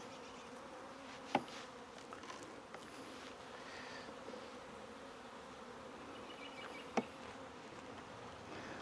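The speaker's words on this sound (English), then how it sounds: "The top box is full of bees." Honey bees massed in the top box of a hive, just smoked, fill the air with a steady, close buzzing drone, broken by two sharp clicks.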